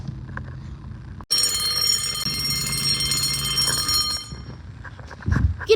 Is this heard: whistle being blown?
no